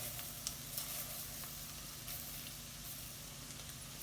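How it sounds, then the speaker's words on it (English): Farro hitting a pan of sautéed red onion brings a faint, steady sizzle with a few soft stirring scrapes, close by and heard without talk. "Now we're going to dump some farro in there."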